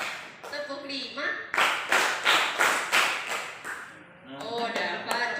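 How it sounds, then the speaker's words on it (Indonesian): Children clap their hands in a counting clap game at a kids' performance: a run of about five evenly spaced, crisp claps, close by, sits between spoken phrases from voices. "Anak soleh, tepuk satu, tepuk lima."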